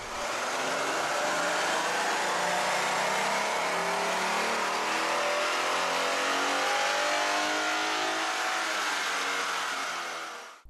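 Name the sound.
Ford Mustang 3.7-liter V6 revving during baseline dyno run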